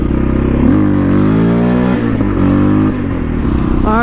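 A Yamaha Raptor 700 quad's engine revs hard in rising and falling pulls for wheelies on a dirt track, close and loud, with sharp climbing pitch sweeps.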